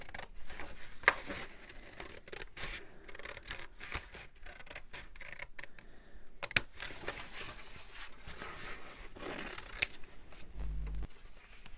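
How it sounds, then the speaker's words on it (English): Scissors snip through paper to cut out simple semicircular shapes at a craft table, giving scattered close crisp cuts and rustling of paper with a few sharper clicks, no talking. "I find these fairly straightforward shapes easier to cut out with scissors myself."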